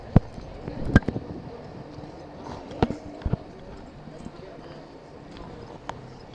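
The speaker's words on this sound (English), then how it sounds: "A couple of tired looking horses under the tree there." Horses' hooves clip-clop in scattered, uneven knocks, a few sharp and close, others softer, with voices talking around them, heard on a countryside walking tour to El Nicho.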